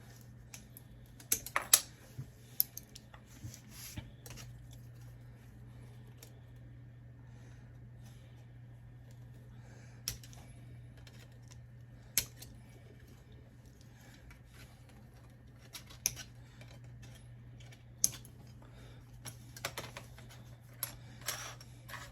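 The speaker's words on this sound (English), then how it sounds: "Try to use the inside cutters when you cut parts." Plastic model kit parts for a Metaluna mutant and girl figure are snipped from their sprues with cutters, giving scattered sharp little clicks spaced irregularly over a quiet background hum, with no talking.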